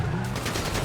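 Rapid gunfire bursts in a crime-themed video game, a loud, dense crackle of overlapping shots lasting under a second with no talk.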